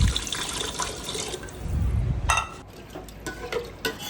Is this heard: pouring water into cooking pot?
yes